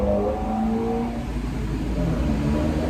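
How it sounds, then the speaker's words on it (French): A city bus in Montreal pulls up on a sunny day, its mid-range engine rumbling and humming close by with a steady drone that eases slightly as it slows, and no one speaking. "Et le bus arrive"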